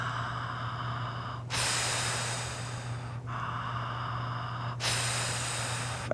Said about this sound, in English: Take a couple breaths here.